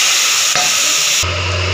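Chopped green onion bhaji dropped into hot oil, a loud dense sizzle and hiss that swells briefly, then settles into steady frying.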